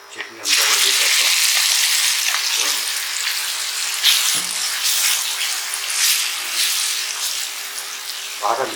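Blended tomato chutney is poured into hot oil with fried tempering seeds, setting off a sudden loud sizzle that continues as a steady, close hiss with occasional stirring sounds.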